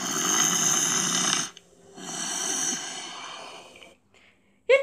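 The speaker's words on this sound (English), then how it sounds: "It sounds like snoring!" Loud, rasping snoring fills the first half, with a long breathy inhale after a short gap, then quieter breathing and a brief sharp snort at the end.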